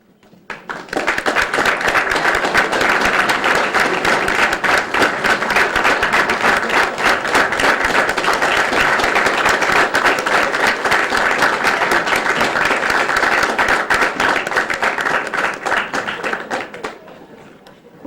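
Sustained applause from a large audience at a 1995 National Honor Society ceremony, loud and steady for over fifteen seconds before tapering off at the end.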